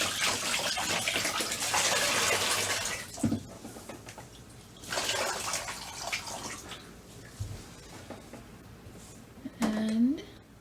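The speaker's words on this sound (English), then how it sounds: "I'm just jiggling it a little so that all the water and soap can get in between the fibers." Yarn being dipped and jiggled in a basin of soapy water, giving bursts of splashing and sloshing that come and go between quieter pauses, with a short drip-like plink near the end.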